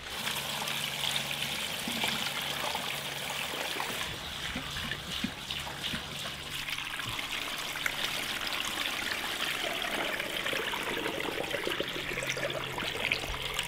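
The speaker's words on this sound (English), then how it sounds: "gonna get these all topped off with water," Water pours steadily into jars of chicken broth at a cabin, a continuous close trickling stream that runs for the whole stretch with no break.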